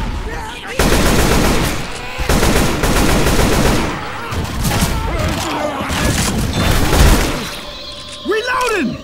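Dense, rapid rifle gunfire in the zombie shooter game Left 4 Dead 2, with sustained volleys, crashing impacts and game effects layered throughout, and voices speaking over the din.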